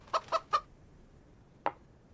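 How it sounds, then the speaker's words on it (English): Hens in the Ranch Simulator video game cluck three times in quick succession, then once more after a pause, short and clear against a quiet background with no talking. "So move all the hens to the chicken coop."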